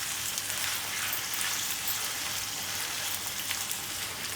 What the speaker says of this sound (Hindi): तो मैंने इसे अच्छे तरीके से फ्राई करना है कीमे को,